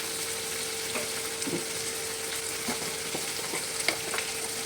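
Turmeric powder frying in a pan of hot oil: a continuous soft sizzle with scattered light stirring scrapes, close and steady, with no talk.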